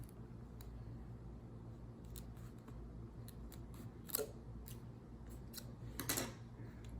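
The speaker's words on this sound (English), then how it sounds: "cut off some of the carrying sheet on here." Scissors trim the carrier sheet of glitter heat-transfer vinyl, with a couple of distinct close snips over a quiet room hum.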